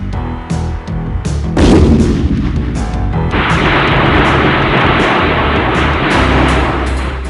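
An artillery barrage with gunfire booms loudly and close, as heavy blasts and sharp reports pile into a dense, continuous roar of rumbling fire.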